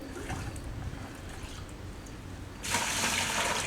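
Water pours into a bucket already holding acrylic liquid for a faux pond rock mix, a sudden loud rushing splash starting after quiet background and continuing steadily up close.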